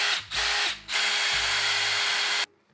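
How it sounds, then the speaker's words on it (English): A power drill fitted with an impact driver bit whines in two short bursts, then in one longer continuous run before stopping. The drill sounds close and loud. "where this thing is really going to shine is on your drill"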